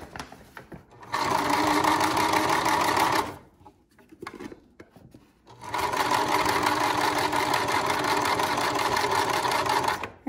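A sewing machine stitches a handle onto a shopping bag made from a woven grain feed bag, running in two long steady bursts separated by a brief pause with soft handling noises.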